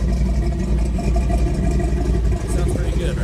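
A 1971 GMC Suburban barn-door truck idling, a steady low engine rumble close by with someone talking over it.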